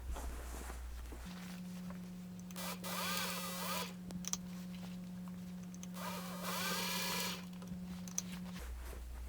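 A domestic sewing machine stitches upcycled denim for a satchel bag in two bursts of fast mechanical whirring over a steady motor hum, with pauses and small handling clicks between runs.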